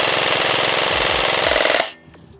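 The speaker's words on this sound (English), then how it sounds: "I'm gonna run the rest of the mag out here and you're gonna see." An Echo 1 BTS Mod 2 M4 airsoft AEG fires a sustained full-auto burst, a loud, rapid mechanical buzz of shots that cuts off sharply near the end, leaving a brief quieter tail.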